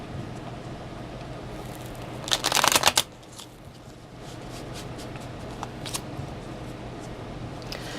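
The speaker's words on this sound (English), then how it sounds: "I want to give it a couple more shuffles here." A brief, crisp riffle of tarot cards being shuffled, a quick flurry lasting under a second, followed by a few soft taps and handling sounds in a quiet room.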